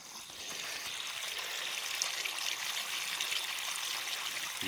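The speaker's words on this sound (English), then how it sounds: "Just going to fill up the rest of these jugs" Well water pours steadily into plastic jugs, a continuous close hiss-like stream without breaks.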